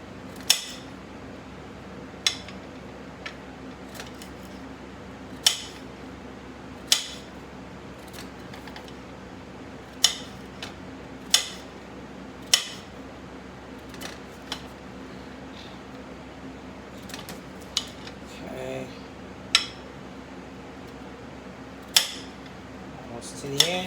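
Irregular sharp knife taps on a cutting board as a carrot is chopped, spaced a second or two apart, over a low steady room hum with no talking.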